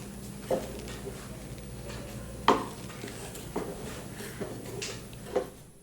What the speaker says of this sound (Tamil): இப்போ இதை வந்து நம்ம கலந்து விட்டுடலாம்